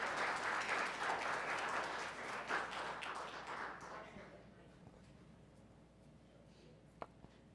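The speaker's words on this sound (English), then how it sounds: "Let's give another round of applause for Mr. Eric Smith." An audience applauds after a presentation at a Black History event. The clapping starts full and dense, then thins and fades over several seconds to a quiet room with a few scattered claps.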